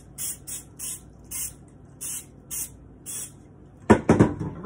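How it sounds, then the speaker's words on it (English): Cooking spray hisses onto a cupcake pan in about seven short, evenly spaced bursts over a quiet kitchen, followed by a few louder clatters as the pan is handled. "Then I'm gonna go ahead and spray handy dandy cupcake pan."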